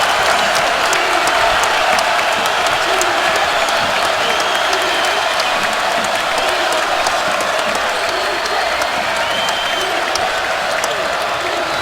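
A basketball arena crowd at a Maryland vs Iowa game roars with sustained cheering and applause, loud and continuous throughout, with a commentator's voice faintly under the noise.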